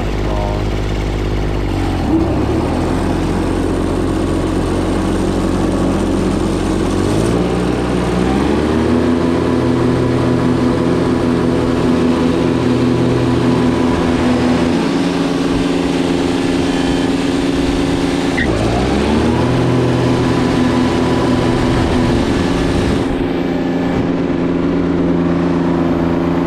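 A four-wheeler ATV engine runs loudly and steadily throughout, rising in pitch as it revs at several points, with a dip and climb around the middle and again later.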